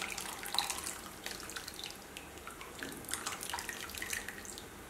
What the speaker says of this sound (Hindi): तो हम अभी इसमें इमली का पानी ऐड करेंगे